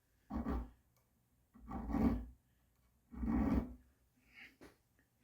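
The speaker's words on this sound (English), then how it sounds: "how I'm filing a little bit heavier on this side than I am on that side" A file rasps across a dovetail front sight, fitting it to the slot, in three firm strokes of about half a second each with short pauses between, then a lighter fourth stroke, close and alone.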